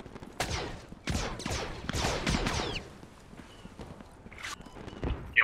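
Rapid gunfire bursts from a Squad video game match as a player shoots at a shield, five or six sharp volleys packed into the first half, then a quieter gap with a couple of scattered shots near the end.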